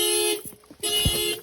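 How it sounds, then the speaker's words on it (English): A Subaru car alarm, set off by opening the door, blares in a loud, steady electronic tone, breaks off briefly with a few soft knocks, then sounds again. "the alarm when I open the door."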